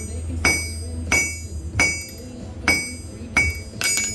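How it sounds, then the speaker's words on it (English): A metal stopper clip is struck hard onto a coyote snare wire on a farm, five sharp metallic clinks at uneven intervals roughly a second apart, close and loud over a quiet background. "It's a stopper clip. And he smashes it."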